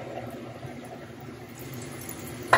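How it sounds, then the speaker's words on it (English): Water poured into a hot pan of stir-fried Sichuan green beans gives a soft, steady hiss of steam and bubbling, ending in a brief louder sizzle burst. "That's good steaming."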